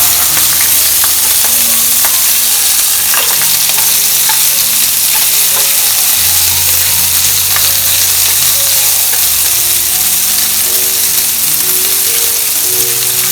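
Shrimp stir-fry in a hot pan with an intense, unbroken sizzle, while a utensil scrapes and taps the pan repeatedly, close and loud throughout.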